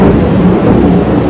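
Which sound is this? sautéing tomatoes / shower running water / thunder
thunder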